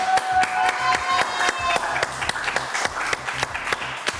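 A studio audience claps steadily throughout, a sustained round of applause for the stage set, with distinct individual claps over a faint background voice.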